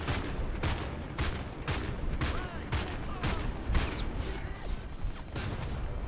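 Rapid bursts of gunfire in the shooter game Homefront: The Revolution, about eight sharp shots fired in a fairly regular rhythm over a low mechanical background, moderately loud, with no talk.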